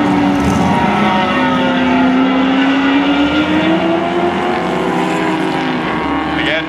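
Race cars, including a BMW and Spec Miatas, run a closed-wheel race at Mission Raceway, with a loud continuous engine drone rising and falling in pitch as cars pass, under a commentator's voice.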